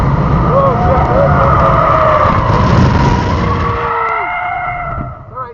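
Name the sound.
Tesla P3D tires skidding while spinning around on race track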